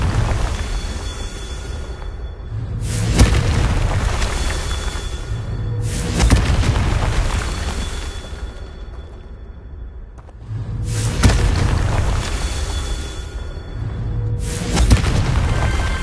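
Booming spell explosions from the video game Hogwarts Legacy, several heavy blasts with whooshing swells and rumbling tails repeating every few seconds, loud and close with no talking.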